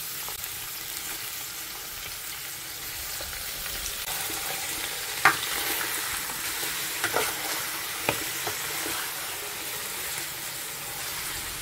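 Meat fries in a pan with a broad, even sizzling hiss, punctuated by a few faint clicks of utensils, steady and moderately loud with no speech.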